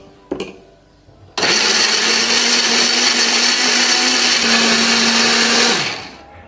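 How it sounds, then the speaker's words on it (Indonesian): A blender grinding spices whirs loudly at a steady pitch for several seconds after a brief clatter, then winds down to a stop. "Bumbu ini akan kita haluskan menggunakan blender ya."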